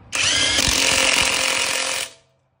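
A cordless SeeSii impact wrench tightens a nut in one loud, close burst of rapid hammering lasting about two seconds, then cuts off abruptly into silence.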